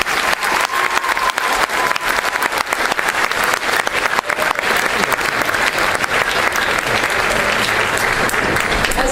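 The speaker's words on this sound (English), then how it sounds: "Let's give them a round of applause." A large crowd applauds steadily at a school oratorical competition, dense clapping filling the room without a break from start to finish.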